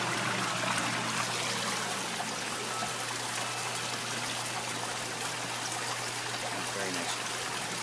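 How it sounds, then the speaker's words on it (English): Gewürztraminer grape juice trickles out of a wine press in a steady wash of dribbling liquid, continuous and fairly close, with someone talking over it. "the grapes are in the press, starting to drain out here"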